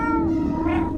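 A person imitates a cat with a single drawn-out meow, loud and close, nasal and wavering, with a slight rising bend near the end.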